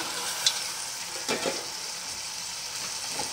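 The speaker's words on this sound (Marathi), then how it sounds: "आणि आता आपण जे काळे घेवडे धुवून घेतलेले आहेत भाजून ते टाकूया" Roasted black field beans tumble into a pan of frying onion-tomato masala, giving a steady soft sizzle with a few light stirring scrapes, fairly quiet and close.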